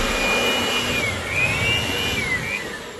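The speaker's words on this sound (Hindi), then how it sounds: "जो गाड़ी में धूल भर जाती है, वो उसको निकलने में मुश्किल होती है, इसलिए हम उसको वैक्यूम से साफ कर रहे हैं।" A vacuum cleaner runs steadily inside a camper van, sucking up dust with a loud, even whine whose pitch wavers slightly as the nozzle moves.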